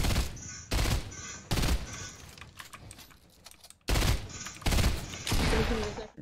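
Bursts of Fortnite gunfire in rapid succession, loud and close, with quieter stretches of keyboard-like clatter between the volleys and some faint voices.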